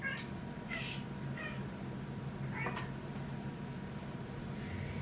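A house cat meows several times, short nasal cries spaced across the moment, fairly close over a steady low background hum, with no talking.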